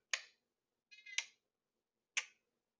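A voice imitates the periodic clicking of a hooded figure: three sharp, isolated clicks spaced about a second apart, one preceded by a brief voiced buzz, in otherwise quiet surroundings.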